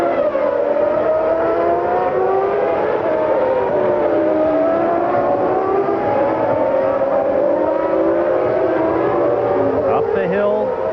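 Formula One cars race in the 1994 Portuguese Grand Prix, high-pitched engines whining and rising through the gears in overlapping sweeps, loud and continuous, with commentary voices underneath.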